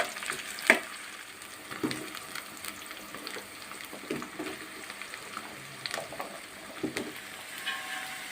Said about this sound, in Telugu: ఆవాలు జీలకర్ర వేగిన తర్వాత ఉల్లిపాయ పచ్చిమిర్చి వేసుకుంటున్నాను ఇవి ఒక నిమిషం పాటు వేగిన తర్వాత